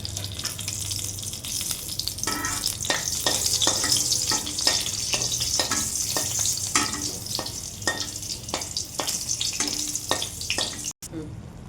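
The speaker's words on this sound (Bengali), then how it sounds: "তেলটা গরম হয়ে গেছে, একটা শুকনো লঙ্কা দিয়ে দেব, সঙ্গে দুটা কাঁচা লঙ্কাও দিয়ে দিলাম।" Dry red and green chillies sizzling in hot oil in a kadai, a continuous bright hiss punctuated by repeated spattering pops, close and steady with a brief dropout near the end.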